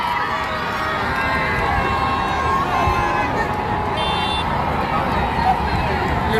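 Large outdoor crowd cheering in Kinshasa as Pope Francis arrives, a continuous roar of shouts and cheers with nearby voices talking over it and a brief whistle midway.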